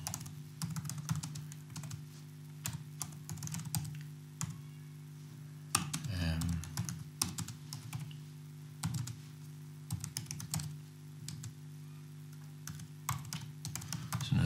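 Steady typing on a computer keyboard during a software webinar, a dense run of close, quiet key clicks with brief pauses and a short burst of heavier handling noise midway.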